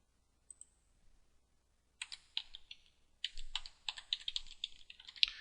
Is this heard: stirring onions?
no